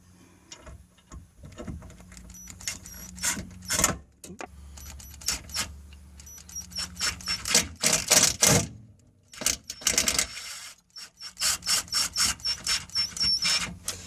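A drill driver drives screws while installing a car amplifier and subwoofer, sounding as a long series of short, rapid ratcheting bursts with clicks and pauses between them, close and fairly loud.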